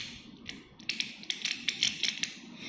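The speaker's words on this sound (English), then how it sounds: "Calzar K3's energy layer, like when you keep moving, clicking this sound." Beyblade Calzar K3 energy layer moved by hand, producing a run of faint, sharp plastic clicks in an uneven rhythm, close and quiet.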